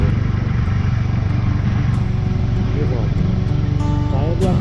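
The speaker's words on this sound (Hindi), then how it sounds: "पर ये है ना कि बाइक की आवाज़ है," Motorcycle engine while riding on a long mountain road trip, a constant close rumble with road and wind roar throughout, and someone speaking over it.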